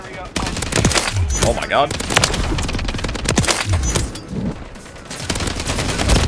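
Bursts of automatic gunfire crack through a first-person shooter match, rapid and loud, with a few heavy booms mixed in, while a player exclaims over the shooting.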